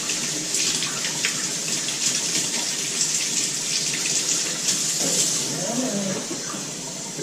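Hot tap water runs steadily into a plugged basin while dreadlocks are deep cleaned, a close, continuous hissing gush with slight splashing changes throughout.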